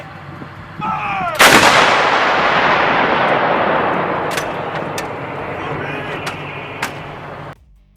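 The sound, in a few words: HIMARS rocket artillery firing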